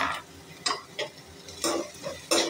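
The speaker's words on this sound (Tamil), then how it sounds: "இப்போ நம்ம வந்து இந்த ரெட் கேப்சிகமும், இந்த டொமேட்டோ, இந்த கொஞ்சம் கறிவேப்பிலை எல்லாத்தையும் போட்டுடலாம்." Red capsicum, tomato and curry leaves are tipped into a hot pan and stirred on medium flame, giving a few short scraping, sizzling bursts of utensil against the pan with quiet gaps between them.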